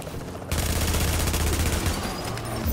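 Rapid bursts of automatic gunfire in the video game Tomato Team: Rogue Chronicles, a dense, loud rattle of shots that begins abruptly and continues almost without pause.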